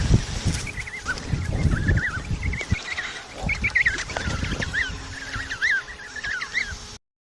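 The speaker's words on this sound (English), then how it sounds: "penguin" Penguins call in a busy colony, giving repeated braying, warbling cries over a steady rumble of background noise and many overlapping calls.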